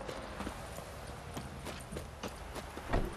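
Horses in the fantasy game The Witcher 3: a steady stream of hoof clip-clops on hard ground, several animals close by, rhythmic and distinct over faint background ambience.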